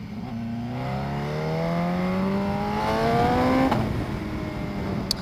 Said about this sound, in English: I'm on the BMW HP4 today